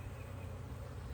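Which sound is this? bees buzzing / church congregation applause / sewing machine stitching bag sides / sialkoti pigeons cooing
bees buzzing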